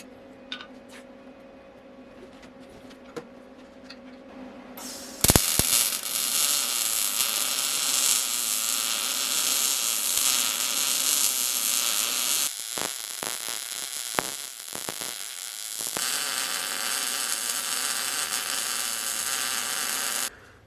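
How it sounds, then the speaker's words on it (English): Welding out a broken bolt on an Ultra4 off-road vehicle, a loud continuous crackling buzz that starts after a quiet hum, breaks briefly midway, then resumes steadily until it cuts off at the end. "So I'm gonna get this welded out real quick."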